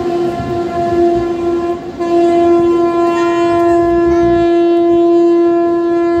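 A train crossing a railway bridge over the Kansai river, sounding a loud, sustained horn that breaks off briefly and then resumes, close and strong over the rumble of the passing train.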